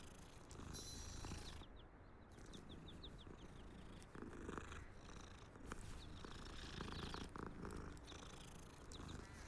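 A cat purrs in the video game Hogwarts Legacy, a soft continuous rumbling purr with faint chirping bird calls above it and no speech.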